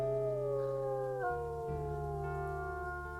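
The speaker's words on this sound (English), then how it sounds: "He's got such a pretty howl." A wolf in a video game holds a long, clear, tonal howl that slides down in pitch partway through and then settles, sustained and close with no other sound.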